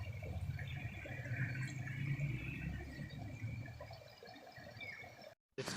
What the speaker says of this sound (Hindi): ये चश्मे के पानी की आवाज़ है जो पीछे आ रही है